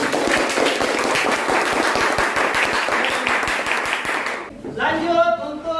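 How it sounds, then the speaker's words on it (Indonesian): Classroom clapping for a student group after their presentation in a teacher training session, a dense burst of hand claps that stops abruptly near the end as a voice begins speaking. "tepuk tangan"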